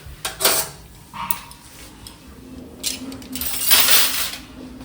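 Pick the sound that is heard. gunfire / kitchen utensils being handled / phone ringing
kitchen utensils being handled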